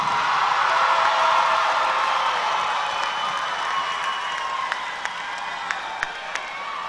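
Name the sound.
audience applause for graduating class at graduation ceremony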